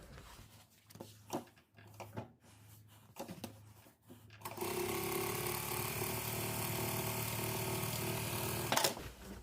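A sewing machine runs a steady, continuous stitch through thick fabric for a bell skirt, a close mechanical whir lasting several seconds after some quieter handling knocks.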